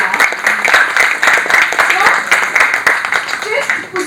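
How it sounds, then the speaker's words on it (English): An audience at a talk on AI, robotics and technology trends bursts into sustained clapping, dense and lively for about four seconds, close and loud throughout. "Let us have big claps for India, yeah."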